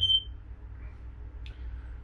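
A short electronic alarm beep sounds once at the start in a workshop around a turbocharged Zetec engine build, followed by a faint chirp amid low background rumble.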